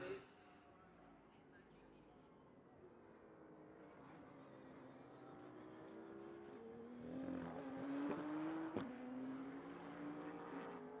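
Ford GT Mark IV race car driving up a hill climb course, its engine note rising steadily and growing louder as it approaches, with a commentator talking over it throughout.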